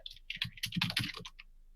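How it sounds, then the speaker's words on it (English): Rapid computer keyboard typing comes through a podcast call, a quick cluster of close clicks that stops after about a second and a half. "I can hear you typing."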